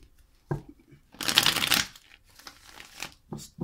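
Cards riffle and shuffle in a dense burst, followed by softer shuffles and taps close by, with no talking.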